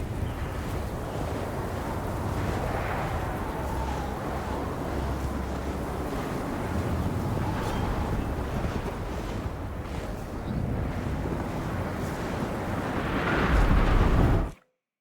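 Loud, steady roar of a snowstorm in the video game Indiana Jones and the Great Circle, a dense wind-like rush that swells near the end and then cuts off abruptly.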